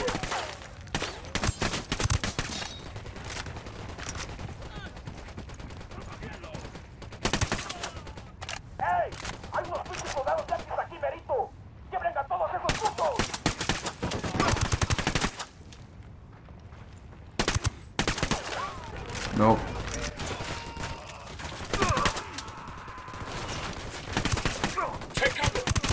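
Dense automatic gunfire and scattered shots in Ghost Recon Wildlands, loud bursts coming in clusters across the stretch, with people talking at times between volleys.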